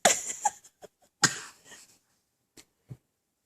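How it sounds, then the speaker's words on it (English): A small child fakes a cough: a few short, breathy coughs and throat-clearing sounds in quick succession, close and fairly loud, followed by a couple of faint taps. "Little coughing thing?"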